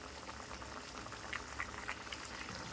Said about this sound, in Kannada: ನಾವು ಗ್ಯಾಸ್ ಫ್ಲೇಮ ಮೀಡಿಯಮ್ನಾಗ ಇಟ್ಟು ಇವಕ್ಕೆ ಕುದಿಸ್ಕೋಬೇಕು. ಇದಕ್ಕೆ ಮುಚ್ಚಿ ಕುದಿಲಾಕ್ ಬಿಡ್ತೀನಿ ರೀ ನಾನು